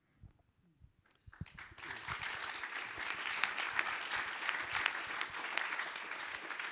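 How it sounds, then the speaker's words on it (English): Audience at a Melbourne talk breaks into applause, swelling from a few scattered claps into steady, dense clapping that carries on to the end of the clip. "thank you for applauding that"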